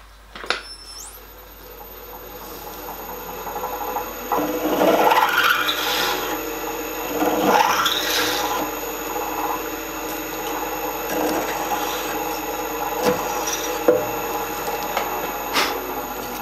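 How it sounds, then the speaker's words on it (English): Holes in the copper tube plate of a miniature steam locomotive are drilled out in a workshop, giving a steady grinding and rasping at moderate loudness with a constant machine hum beneath. "we'll go ahead and drill them all out anyway."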